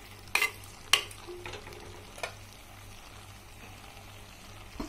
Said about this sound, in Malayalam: ഞാനിത് ഇടക്കിടക്കൊന്ന് ഇളക്കി കൊടുക്കുന്നുണ്ട്